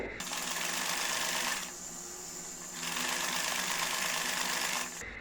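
A sewing machine stitches a straight seam on fabric for a girl's frock in a close, continuous whirring run, briefly slowing midway before picking up again.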